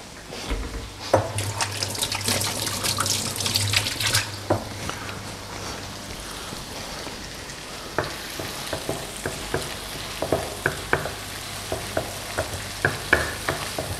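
Onions and shallots sizzle loudly in a hot pan, stir-fried with scraping, clicking spatula strokes that come in irregular bursts over continuous frying hiss.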